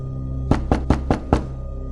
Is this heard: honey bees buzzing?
no